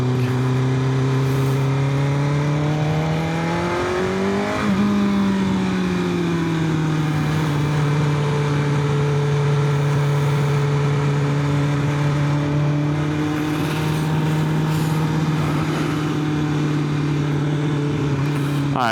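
2024 BMW S1000RR motorcycle engine while riding: a loud, close engine drone whose pitch climbs, dips sharply around a quick shift blip, then holds steady in the next gear under wind rush, with no talking.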